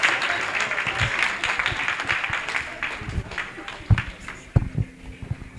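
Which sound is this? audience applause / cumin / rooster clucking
audience applause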